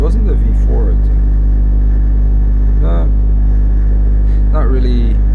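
A 2021 Ducati Hypermotard 950 RVE motorcycle cruises along with a steady, close engine drone, while someone talks over it in short bursts.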